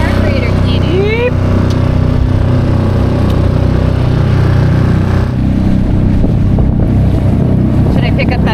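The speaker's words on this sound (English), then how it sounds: "engine sounds a lot better" An outboard motor on a small, tippy boat runs steadily after a carburetor cleaning, a loud close drone with a constant tonal hum, mixed with wind buffeting the microphone and water noise.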